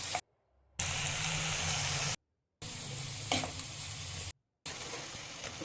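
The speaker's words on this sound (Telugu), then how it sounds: "టమాటో ముక్కలు వేసి టూ మినిట్స్ వేయించాలి" Tomato pieces frying in oil in a pan give a steady, close hiss of sizzling that comes in three stretches separated by short silent breaks, with no talking.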